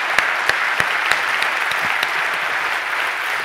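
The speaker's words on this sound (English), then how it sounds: "Please join me in an applaud for them." Audience applause for the speakers at a London conference Q&A, steady crowd clapping with a few close, sharp individual claps standing out.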